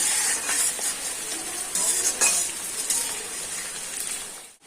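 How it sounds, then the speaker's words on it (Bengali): Ginger, garlic and onion fry in a pan for a restaurant-style mixed fried rice, an even sizzling hiss with occasional light stirring scrapes, fading at the end. "পেঁয়াজ আর রসুনের কাঁচা গন্ধটা না যাওয়া অবধি আমি ভাজতে থাকবো।"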